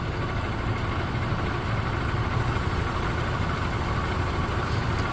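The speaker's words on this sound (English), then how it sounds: "So this is transferring the weight of the trailer off the unit, off the fifth wheel, onto its own legs." An HGV C+E articulated trailer's air suspension is lowered by holding the down button, shifting the trailer's weight off the fifth wheel onto its own legs. A steady, loud idling engine rumble runs throughout, with no voices.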